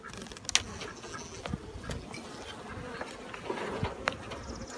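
Honeybees buzz around an open hive during an inspection after a swarm, a continuous close droning hum with individual bees passing near and away.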